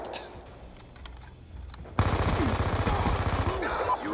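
Rapid bursts of close gunfire in Black Ops 2, a dense rattling volley that starts abruptly after a quieter stretch of scattered clicks and keeps going to the end.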